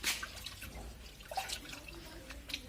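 Water splashes and trickles into a bucket for hand washing, a scattered run of small drips and pours close by with no talk.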